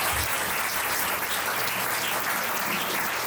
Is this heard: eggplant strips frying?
no